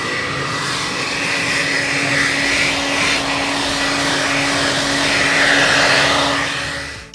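A handheld dryer blows steadily and loudly on freshly painted wood on a wooden box, a continuous rushing whir with a faint steady hum underneath, unbroken for the whole stretch.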